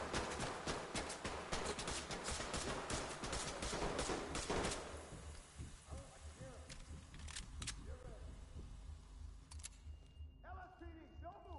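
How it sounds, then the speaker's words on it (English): Grenade launcher fire and explosions in the tactical shooter game Ready Or Not ring out in a dense rapid volley, then thin to a few scattered sharp reports over game ambience, with voices talking. "I'm shooting grenades up there"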